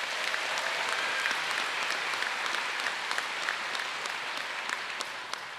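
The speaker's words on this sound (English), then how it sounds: "Let's give them another round of applause." A graduation crowd at the Apprentice School ceremony keeps up a dense, steady round of applause that stays loud throughout. A few sharper claps stand out near the front.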